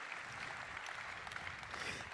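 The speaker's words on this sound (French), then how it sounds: "Oui, applaudissons-nous" Audience applause at an awards ceremony for real-estate professionals, a steady dense patter of many hands clapping at moderate distance, continuous through the short stretch without talk.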